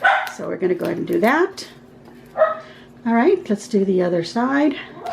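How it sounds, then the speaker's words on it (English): A dog barks several times in short bursts indoors during a floral craft session, fairly close and loud, mixed in with someone talking over the barks. "that's my dog"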